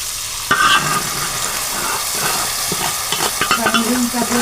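Ground masala paste is stirred into a hot frying pan, with a loud sizzle and repeated scraping and clinking of a spoon against the metal, in uneven bursts.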